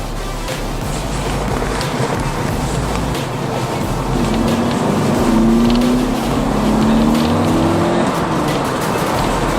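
A Peugeot 206 GT S16 engine roars steadily in first gear and builds in intensity, its pitch climbing as it accelerates with the window open, loud and close throughout with no talking.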